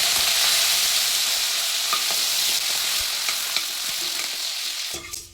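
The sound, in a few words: curry leaves frying in hot oil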